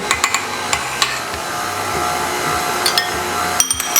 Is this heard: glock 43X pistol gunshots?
no